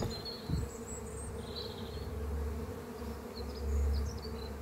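Honeybees drone steadily and close by during a hive inspection, a continuous buzzing hum that swells and fades slightly as individual bees pass near, with no talk.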